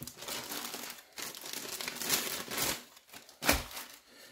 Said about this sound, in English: So, let's just rip it open.